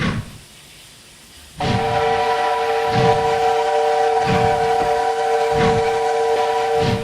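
A low hiss, then the powerful steam whistle of a China Railways QJ Class locomotive in Train Simulator 3 blasts in and holds its rich chord for several seconds, with rhythmic chuffing pulses underneath.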